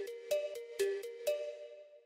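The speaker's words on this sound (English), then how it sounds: "the next layer is the steel drum" A steel drum one-shot sample in a melodic bass house layer, struck four times in a bright, ringing pattern, each hit decaying quickly, quiet and alone.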